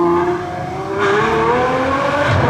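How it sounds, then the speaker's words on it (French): A Ferrari 812 sports car drives past on a Monaco street, its engine note loud and close, rising in pitch as it accelerates by. "Un passage. Et une autre 812."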